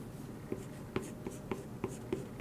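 A pen or pencil writes out a short math expression, giving quiet, close scratchy strokes in a loose rhythm of about eight taps and scribbles over a soft background hum.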